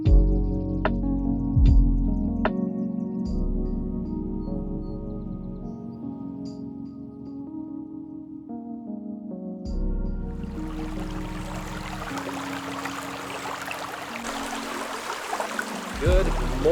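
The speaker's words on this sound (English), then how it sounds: "I'm just enjoying a little bit of coffee here down by this beautiful creek next to our campsite" Forest creek flowing beside a campsite, a steady broadband wash of running water that rises in the second half, with earlier stretches of low rumble and faint voices underneath.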